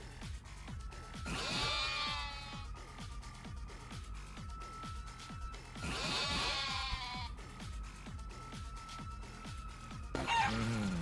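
Chicken clucking in the video game Yakuza: Like A Dragon, two loud squawking bursts over a steady thumping game beat, then a sharp flutter near the end.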